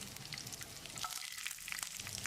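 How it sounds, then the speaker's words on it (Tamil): Small shallots and whole spices such as star anise, cloves and cardamom sizzle and crackle in hot oil in a pan, with a steady, fairly quiet frying hiss throughout and no talking. "வெங்காயத்தை கண்ணாடி பதத்துக்கு வதக்கிடலாம்"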